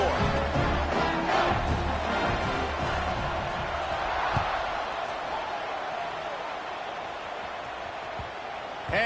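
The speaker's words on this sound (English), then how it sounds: "this crowd is buzzing after that last score" A stadium crowd at a college football video game matchup between Clemson and Colorado hums with a steady, broad roar after a touchdown, running continuously beneath a commentator's voice.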